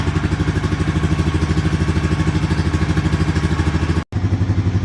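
A 2013 Honda Rancher ATV engine idles while warming up, with a steady, even chugging putter close by and one very brief dropout near the end.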